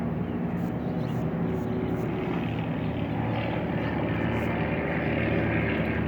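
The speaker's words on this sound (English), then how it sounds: "if you can still hear us after the planes have gone" Aircraft flying over during a Dodge Challenger tail light inlay install: a loud, steady engine roar with a broad rumbling drone that holds throughout, alone and without talk.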